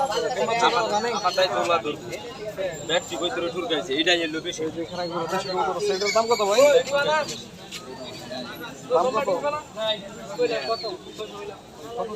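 Pigeons coo softly in repeated throaty calls at a pigeon market while people talk nearby over them.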